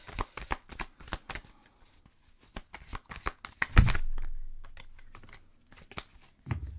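Tarot cards shuffled in quick riffling bursts, a dense run of crisp flicks and slaps followed by a softer thud as the deck settles, close and clear with no talk.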